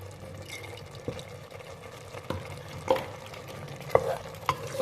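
Fenugreek and spinach being stirred in a pot as oil goes in, with soft scraping and wet sizzling, a few louder clanks of the spoon against the pot toward the end.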